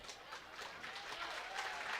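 Faint, distant crowd applause in a gym during a WIAA girls basketball sectional semi-final between Pacelli and Assumption, a soft, continuous clapping that swells slightly toward the end.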